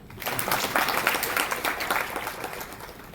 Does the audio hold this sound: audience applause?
yes